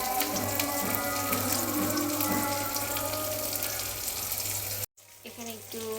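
Onions and carrots, with chili peppers, fry in a pan over lowered heat, giving a steady broadband sizzle that runs continuously and briefly cuts out before resuming more quietly.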